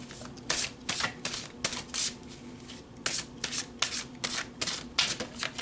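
A deck of animal spirit oracle cards being shuffled by hand, a quick run of soft riffling and rubbing bursts, close and quiet.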